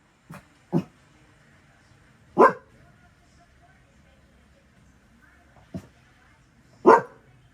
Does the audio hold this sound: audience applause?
no